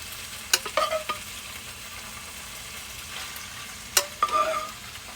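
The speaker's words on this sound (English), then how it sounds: "We're going to add our pasta to the dish." Pasta tossed into a pan for garlic chicken pasta with a little pasta water, giving a couple of brief scraping stirs and soft sizzling bursts against a quiet kitchen background, no talking.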